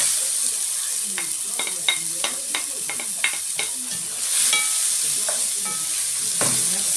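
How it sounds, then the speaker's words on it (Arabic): Chopped onion frying in a pan with a steady hiss and sizzle, broken by a run of sharp scraping stirs in irregular rhythm, close and clear with no talk. "ننزل بقى على عاملة بصلة، هي خرطة بصلة اهي."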